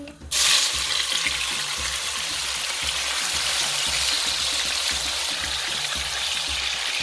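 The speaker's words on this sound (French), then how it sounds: "dans une sauteuse, j'ai mis de l'huile et je vais faire revenir ma viande. Attention, ça va sauter." Meat dropped into hot oil in a sauté pan bursts into a loud, continuous sizzle that holds steady, with faint periodic low thumps underneath and no voices.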